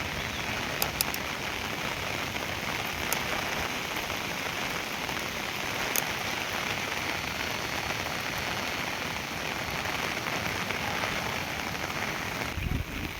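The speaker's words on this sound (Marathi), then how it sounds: "पाऊस भरपूर पडायला लागला आहे" Heavy rain pours at Devgad near the fort and lighthouse, a dense, even hiss of drops on surfaces that holds steady throughout, with a few faint sharp ticks and no talking.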